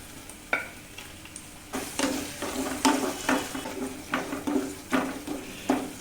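Curry leaves and green chillies fry with ginger in a hot pan, giving a steady sizzle broken by regular scraping stirs of a spoon, close and clear with no voices.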